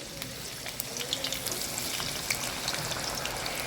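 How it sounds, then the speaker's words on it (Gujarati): Potatoes fry in oil with a soft, steady sizzle and scattered light crackles and pops, close by and moderately quiet. "હવે લઈશું બટાકા એને પણ તળી લઈશું"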